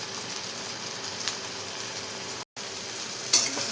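Onion and tomato softening in a pan give off a constant close sizzle, with a very brief gap partway through and a light utensil clink near the end.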